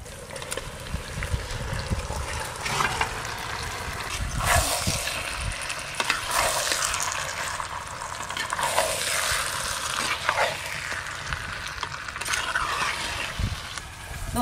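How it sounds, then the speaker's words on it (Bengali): Spiced country chicken sizzles in a clay pot on a village mud stove, with a constant close sizzle and repeated stirring scrapes and knocks against the pot, and no one talking. "মশলা মাখানো মাংসগুলো মাটির হাঁড়িতে দিয়ে দেব।"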